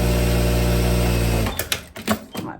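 An overlock sewing machine stitches a kaftan shoulder seam with a steady, loud, buzzing whir for about a second and a half, then stops, followed by a few brief handling clicks.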